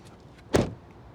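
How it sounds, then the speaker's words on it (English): A car door on a 2023 Lexus NX 250 swings shut with a single solid, heavy thump, close by and loud against a quiet background. "let's check out the sound of the closing door."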